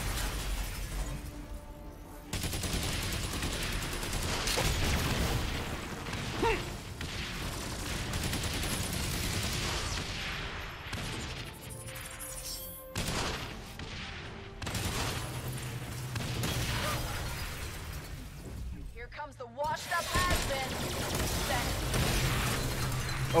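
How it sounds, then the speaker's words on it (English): Dense, continuous game combat from Agents of Mayhem, with explosions, crashing debris and bursts of gunfire layered over a steady music bed, loud throughout with brief dips; someone talks now and then over the action. "Oh gosh, everything's exploding."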